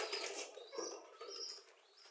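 A soft, close flurry of quail wings flapping in quick bursts, fairly faint and with no voices.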